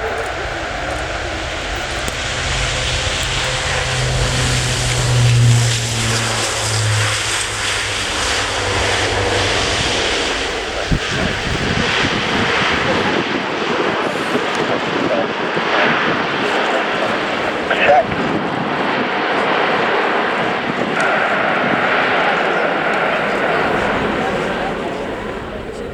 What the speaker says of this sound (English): This, as Mark mentioned, displayed for us today by Airbus Defence and Space, its manufacturer, the Airbus A400M.